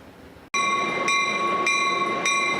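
A Sounder commuter rail train passes with a loud, steady roar of wheels on track and a sustained multi-tone horn blast that rises suddenly after a brief quiet start and holds to the end, with no talking.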